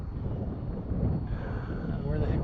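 Wind gusts buffet the microphone on a fishing boat during a bass outing, a steady low rumble that swells slightly toward the end.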